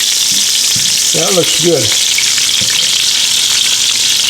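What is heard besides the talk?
meatballs frying in a pan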